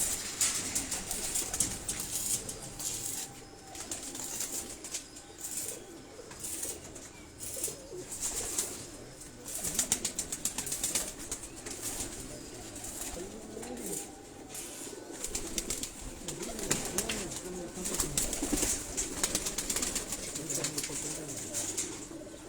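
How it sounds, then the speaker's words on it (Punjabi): Breeder pigeons in a cage giving low, repeated throaty coos with occasional chirps and wing flutters, set against steady rustling and clatter, fairly faint and continuous. "ਡਾਕਟਰ ਸਾਹਿਬ ਦੇ ਬਰੀਡਰ ਕਬੂਤਰਾਂ ਦਾ ਕੇਜ ਨੇ ਜੀ"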